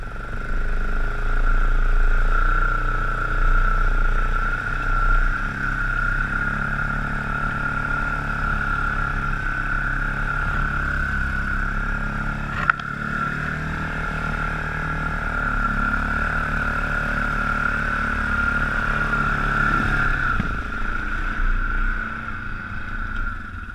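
A Yamaha Grizzly 660 ATV rides over frozen, muddy trails, its engine droning steadily with a strong whining tone, rising and falling slightly as it moves, loud and close throughout.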